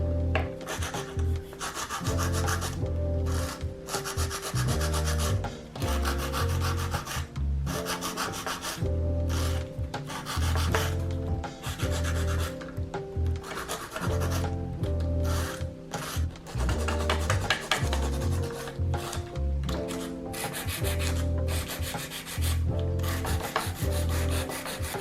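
Steady rhythmic rasping of a nail file shaping the free edge of an acrylic nail, close and continuous, with short regular strokes and no voices.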